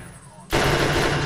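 An RPK machine gun in a video game opens up with a dense, loud burst of automatic fire that starts abruptly after a short quiet lead-in.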